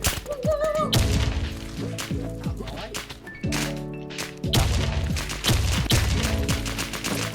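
Gunfire in the video game WarZ crackles in rapid bursts and single loud shots, with sharp impacts and clatter close by, while players talk in Thai beneath the shooting.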